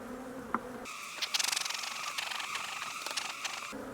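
Honeybees swarm and buzz around an opened beehive during a hot hive inspection, a dense steady drone rising suddenly and holding close and loud with agitated fluttering bursts before easing back.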